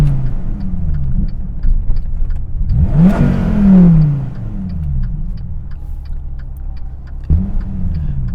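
Dodge Viper GTS engine revs hard and accelerates, a loud rising sweep that peaks midway before settling, with a lower burbling idle and a second blip of throttle near the end.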